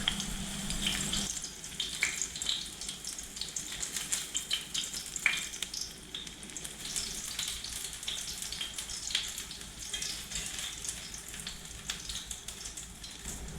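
Zucchini-potato fritters frying in a pan, a soft steady sizzle of oil with faint crackles and occasional clinks, fairly quiet and without talk.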